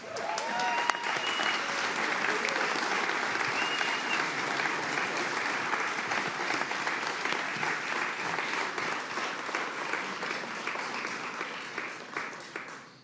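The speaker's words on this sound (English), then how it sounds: "please stand and give a big round of applause for the 57th Governor of the great state of New York, Governor Kathy Hochul" A large audience applauds steadily in welcome for New York Governor Kathy Hochul, a dense sustained wash of clapping that holds strong for the whole stretch before tapering at the close.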